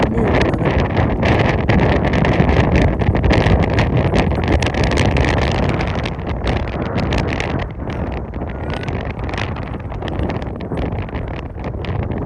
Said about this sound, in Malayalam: കാരണം നല്ല കാറ്റാണല്ലോ വീശി അടിച്ചുകൊണ്ടിരിക്കുന്നത്.